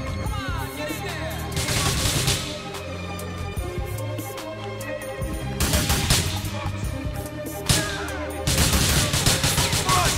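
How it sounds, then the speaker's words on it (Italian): Gunfire in GTA 4 bursts out in dense volleys of shots at several points, loud and close amid game music and ambient noise, with brief quieter gaps between the bursts. "Perché spari un colpo alla volta"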